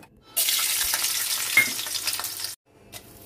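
Water gushes steadily from a kitchen tap over a second batch of vegetables being washed, a close, loud rushing that stops abruptly after about two seconds, followed by a faint clink.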